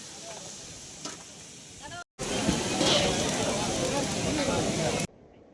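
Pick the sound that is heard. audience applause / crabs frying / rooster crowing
crabs frying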